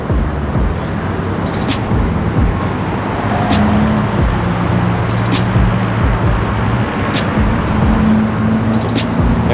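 An Infiniti Q50 car engine rumbles loudly and steadily nearby, a low idling drone that holds for several seconds.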